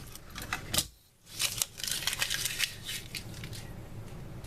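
Backing sheet being torn off while hooping a hat on a Durkee hat hoop, heard as close, crisp ripping and crackling in several short bursts with a brief pause.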